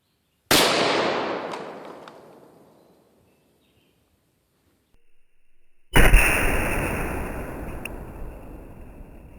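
A .500 Magnum revolver fires into a block of ice: one loud, sharp blast with a long ringing decay, a pause with faint sounds, then a second burst of noisy crashing and scattering.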